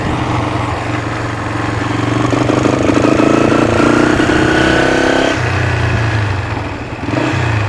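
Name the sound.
Honda motorcycle engine starting and revving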